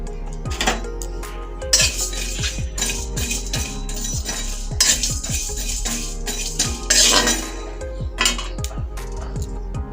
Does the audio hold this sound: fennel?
yes